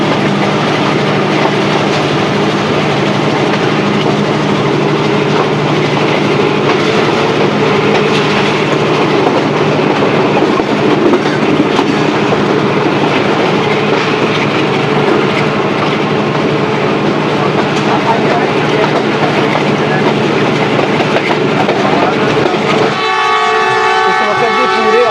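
Sialkot Express passenger train running through a station during heavy rain, a loud, steady rumble of wheels and carriages with rhythmic clatter that continues throughout, ending in a brief horn-like tone.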